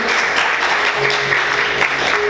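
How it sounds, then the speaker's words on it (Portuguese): Church congregation clapping together in joyful applause during a service, a dense, loud, continuous wash of hands filling the room with little variation. "Vamos aplaudir Jesus com bastante alegria"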